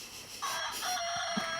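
A rooster crow and clucking played from a children's farm-animal sound puzzle toy, a short electronic chicken call that starts abruptly after a quiet moment and runs clearly for over a second.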